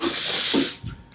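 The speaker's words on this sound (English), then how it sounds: "So we start to spray steam." A steam fogger sprays a continuous, loud, close hiss of steam onto a car's glass for almost a second, then cuts off, leaving faint low rumbling behind.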